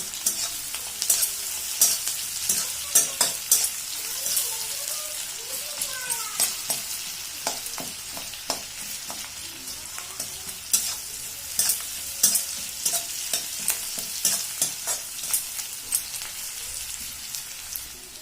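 Onions frying in a pan for kasundi chicken curry, a continuous crackling sizzle broken by frequent quick scrapes and taps of a spatula stirring, close up and busy, with faint muffled voices in the background.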